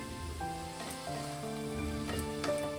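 Spice paste frying with elephant foot yam in a pan for a tangra fish curry, a steady close sizzle with soft stirring touches and a few brief higher clinks.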